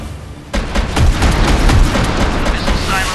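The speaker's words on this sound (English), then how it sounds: "Missiles prepared for launch." Warship missile launch aboard the Admiral Panteleyev in the mobile naval combat game Warship Mobile: a sudden loud blast at half a second, then a sustained roaring rumble with repeated booming pulses, close and dense, filling the rest of the moment.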